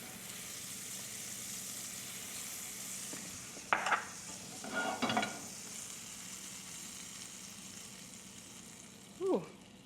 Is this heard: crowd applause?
no